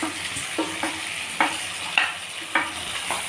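Coriander paste masala sizzles softly in a pan, a spoon scraping through it in a steady rhythm of stirring strokes, close and fairly quiet with no talking.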